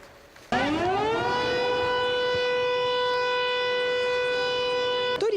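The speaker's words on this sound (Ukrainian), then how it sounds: "Вже третій день на Черкащині тестують нову систему оповіщення під час атаки безпілотників." An air raid alert siren in Ukraine's Cherkasy region, part of a drone attack warning system being tested, winds up and then holds a loud, steady, wailing tone, close and alone.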